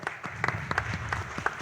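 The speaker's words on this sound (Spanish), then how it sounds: "Con un fuerte aplauso también le damos la bienvenida al doctor Gustavo Blanco." Scattered, thin applause from a forum audience welcoming a doctor to the stage, a handful of individual claps heard distinctly rather than a dense ovation, fairly quiet and brief.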